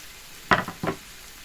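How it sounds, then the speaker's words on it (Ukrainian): Onion cut into quarter rings fries in a pan already used for liver, giving two short bursts of sizzling about a third of a second apart, otherwise quiet. "Далі на цій же самій сковороді я обсмажую цибулю, порізану чверть кільцями."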